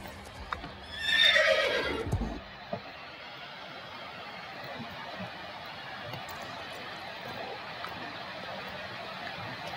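Horse in the game Star Stable giving one loud, close whinny lasting about a second near the start, then a faint ambient background.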